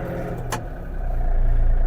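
Yanmar US-330 mini tractor starting to move with front-wheel drive engaged, a steady close engine drone with a brief sharp click or clatter partway through, the engine note building slightly louder toward the end.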